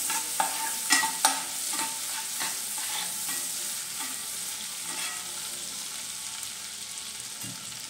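Ginger and garlic frying in a pan in a home kitchen, a steady bright sizzle with several sharp clinks and scrapes of stirring early on, close and alone with no talk.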